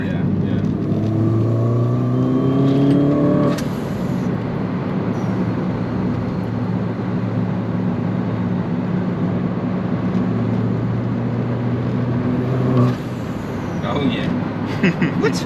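A Mini Cooper S R56 engine rumbles and revs under continuous cabin noise, pitch rising then holding, with a voice talking over it.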